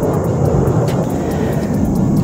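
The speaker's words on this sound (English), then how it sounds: "Hold on, we got some F-16s. Actually, I think they're F-18s." Fighter jets, F-16s or F-18s, roar overhead in a loud, steady, broadband rumble that fills the whole stretch without a break.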